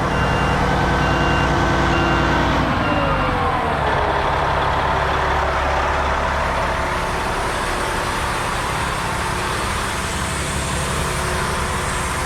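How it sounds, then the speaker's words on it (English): Tower ladder fire truck at a firehall running its hydraulic outriggers to lift the truck off the ground: a loud diesel engine idle with a steady high-pitched beep, shifting partway through to a rising hydraulic whine and continuous mechanical rumble. "these outriggers have picked the entire truck up off the ground"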